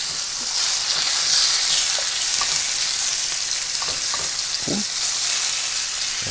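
Chicken sizzles loudly in a pan right after being flipped during a quick family meal, a steady close frying hiss with a few scattered clicks and pops.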